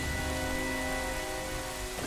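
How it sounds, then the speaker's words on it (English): Video game rain in a Zelda Majora's Mask session on N64, a steady faint hiss of falling rain with faint tonal hum beneath, brief and continuous without talk. "that's a better rain effect than what you get in Grand Theft Auto Definitive Edition"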